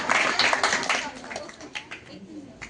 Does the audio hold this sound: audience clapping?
yes